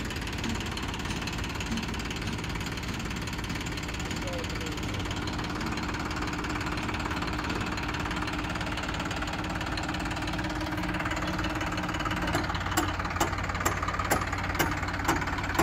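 A brand-new tractor engine runs steadily nearby at a brick kiln, a continuous rumbling drone, with some faint rhythmic ticking toward the end.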